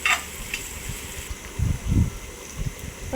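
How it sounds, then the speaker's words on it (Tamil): Green chilies with salt being sautéed and stirred in a pan, with soft scraping and stirring thumps and a faint sizzle close by, no talking. "பச்சை மிளகா தேவையான உப்பெல்லாம் போட்டுட்டு நல்லா வதக்கிக்கணும்"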